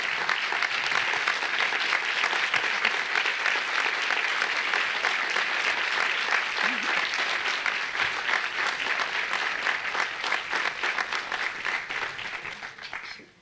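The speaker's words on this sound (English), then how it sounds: "we recognize them with a round of applause before we begin our program" Sustained round of applause from a lecture audience honoring a group of women from Kentucky, steady and fairly dense for about twelve seconds before tapering off at the end, with no voices over it.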